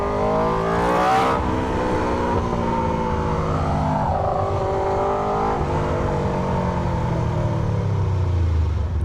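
Yamaha XTrenta motorcycle with an SC GP22 exhaust under way, its loud, rough engine note surging in revs and then settling into a steady rumble, close and unbroken throughout.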